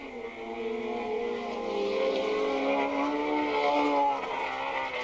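Racing motorcycles at a 1986 AFM race at Willow Springs roar down the back straightaway as a continuous, loud, high-pitched engine wail with shifting tones from several bikes running close together.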